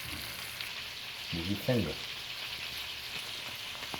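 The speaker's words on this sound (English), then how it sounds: "it's time to now take the steak out of this hot skillet." A rib eye steak sears in a hot iron skillet, giving a steady soft sizzle throughout, with a brief louder burst of frying midway as a voice speaks a few words.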